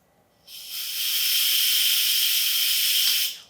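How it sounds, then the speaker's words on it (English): Steam rushing from an Instant Pot valve as the knob is eased open for a gradual quick release, a loud steady hiss that swells in, holds for about three seconds, then cuts off. "to do the gradual quick release, you can actually use a wooden spoon to turn the knob just a bit"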